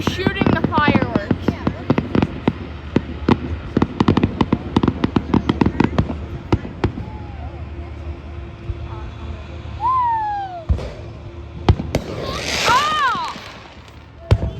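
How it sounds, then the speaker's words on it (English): Fifth of July fireworks going off in fast, loud strings of cracks and bangs that thin out into scattered booms, with whistling rockets, and people exclaiming and chattering throughout. "No, he's shooting the fireworks."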